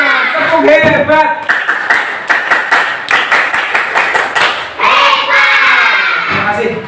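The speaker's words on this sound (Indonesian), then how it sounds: "Tepuk hebat." Schoolchildren in an Indonesian classroom doing a rhythmic group clapping chant, loud and close: patterned bursts of claps with children's shouting voices between, a short pause, then more clapping and voices.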